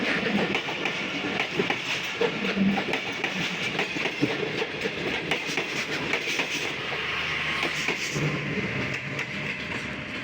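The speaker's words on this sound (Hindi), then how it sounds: "ये 16 डाउन कराची एक्सप्रेस देखिए पास हो रही है खानपुर रेलवे स्टेशन से" An express passenger train, the 16 Down Karachi Express, rolls past the platform at Khanpur railway station, a continuous rumbling roar with rhythmic clickety-clack of wheels over rail joints.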